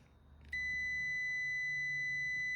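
A multimeter in continuity mode sounds a single steady high-pitched beep while probing across the L1–T1 and L2–T2 terminals of an HVAC contactor, starting abruptly after a brief low hum and holding loud and unbroken to the end.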